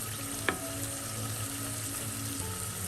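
Prawns frying steadily in a pan over a medium flame, a soft continuous sizzle with one brief clink of a utensil partway through.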